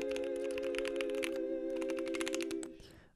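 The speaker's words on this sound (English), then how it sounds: "Just hear the click." A custom-built mechanical keyboard clatters with quick, sharp key clicks in a fast typing burst, heard close over a steady tonal hum that fades out at the end.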